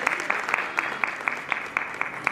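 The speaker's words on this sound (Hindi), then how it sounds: "जोरदार तालियां लगातार बजना चाहिए" Rhythmic applause at a cultural arts festival, with a crowd clapping in an even, regular beat and a few sharp claps standing out close by.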